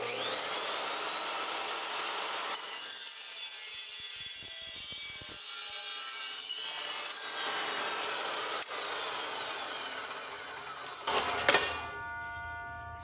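A hand saw cuts through a steel exhaust pipe during a Ford F-series muffler and exhaust replacement. The rasping is continuous and even, then ends in a few sharp metallic clinks as the cut finishes.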